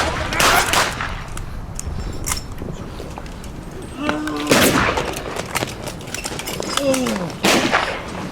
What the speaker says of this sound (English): We opened fire and completely surprised them.